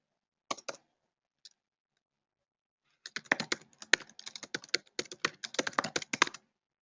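Keys on a computer keyboard click close by: a few isolated taps, a pause, then a quick burst of rapid typing, with no one speaking.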